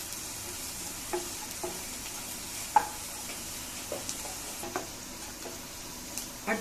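Onions and fenugreek seeds sautéing in a pan for kaara kuzhambu, a soft steady sizzle broken by occasional light stirring clicks and taps, fairly quiet and close, with no voices.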